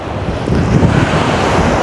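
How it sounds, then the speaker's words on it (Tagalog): Wind gusting over a beach with sea waves breaking steadily, a continuous loud rush of wind buffeting the microphone and surf with no voices. "mahangin siya"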